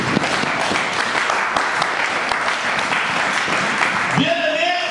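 A church congregation applauding to acclaim the Lord: sustained, dense clapping from many hands filling the room, with a voice rising over it near the end.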